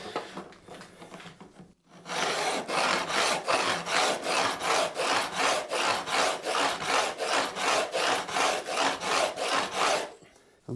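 A file stroked rhythmically across guitar fret ends to bevel them while building a Johnny Ramone replica guitar, a long run of even rasping strokes, close and regular, after a short pause.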